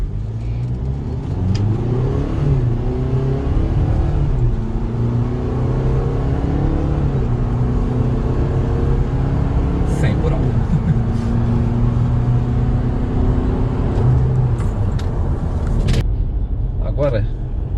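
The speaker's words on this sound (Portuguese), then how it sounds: "vamos testar o 0 a 100 da Amarok Remap Stage 1" A VW Amarok Highline pickup with a Stage 1 remap accelerates hard from 0 to 100 km/h, its engine note climbing in repeated rising sweeps through the gear changes, loud and close from inside the cabin.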